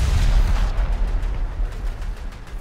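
Flower-class corvette HMCS Brantford firing naval guns at a British corvette in War Thunder: a steady run of loud, booming shots and heavy low rumble, with no speech.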